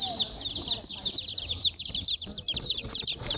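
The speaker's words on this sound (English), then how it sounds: "Yeah, I love my chickens." Backyard chickens, including bantams, give a busy stream of overlapping high clucks and chirps, close and continuous, over faint low background noise.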